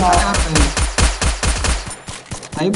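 Gunfire in the Free Fire video game: a loud, close run of rapid evenly spaced shots, then a few quieter, more scattered ones.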